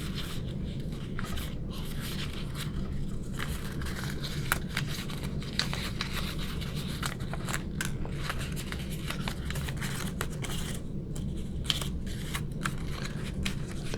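Paper is folded into an origami angel with continuous close crinkling, pressing and soft creasing, punctuated by small sharp crackles as the folds are pushed in and flattened.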